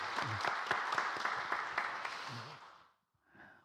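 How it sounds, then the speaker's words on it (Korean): Church congregation applauding at a Korean worship service, a steady burst of many hands clapping that fades out near the end, followed by a brief faint sound after a short silence. "하나님께 박수를 한번 올리겠습니다"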